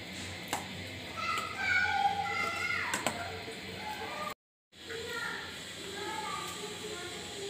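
Faint children's voices chatter and call out in the background of a busy home setting where chotpoti is being prepared, with light tapping and clinking, a brief dropout midway, then more distant kids' chatter.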